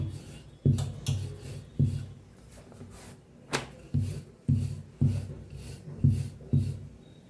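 Wooden rolling pin pressing out a large puri of dough, a series of soft rhythmic thumps and rolling rubs at an even pace, close and fairly quiet with no speech.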